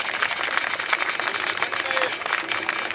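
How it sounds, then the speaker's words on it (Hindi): An audience claps for a young girl performing yoga at a marathon event in Mumbai, a steady patter of many hands with crowd noise and voices mixed in. "ताली बजाओ यार"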